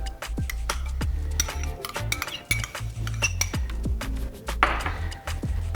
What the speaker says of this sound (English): So what we're gonna start with is combine all the ingredients for the marinade